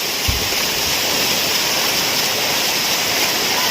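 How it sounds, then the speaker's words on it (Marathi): A dense, constant hiss of heavy rain pours down on a flooded market street in Chiplun, without pause, loud and even throughout, with no voices. "खूप मोठ्या प्रमाणावरती पाऊस पडतो आहे"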